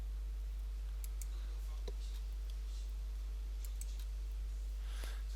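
A computer mouse clicks faintly a handful of times at irregular intervals, sharp little ticks over a steady low electrical hum.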